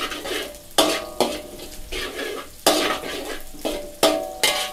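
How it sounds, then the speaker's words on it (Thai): Garlic and shallots stir-fried in a pan for shrimp pad thai, bright sizzling broken by repeated sharp spatula scrapes and clanks against the pan, close and fairly quiet, with no talk. "ผัดให้หอมเลยนะครับ"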